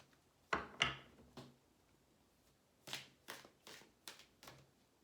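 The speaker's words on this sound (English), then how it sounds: "let's get a card for Aries to round out this reading" Tarot cards are riffled and handled during a love reading, with two sharp slaps, a pause, then a run of soft, quick flicks close by at low volume and no voices.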